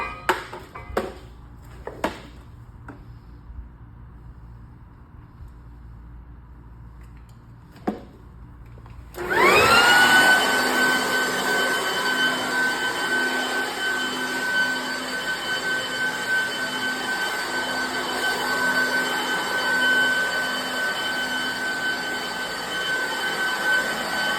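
In a gym, a few scattered knocks come before a leaf blower starts up abruptly, then roars loud and steady at close range as it blows out grass and sand, with a rising whine as it spins up.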